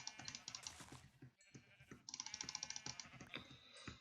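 Sheep bleat in short wavering calls in the game Minecraft, over soft, rapid clicking, like keys being tapped nearby.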